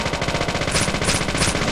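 Gunfire from an infinite gun in the video game Deadly Premonition, a dense, loud, continuous rapid-fire rattle that holds steady for under two seconds.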